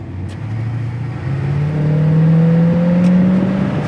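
A 1956 Chevy 210 accelerates down the road from inside the car, its engine note climbing steadily and growing louder as it picks up speed, with a smooth, even tone.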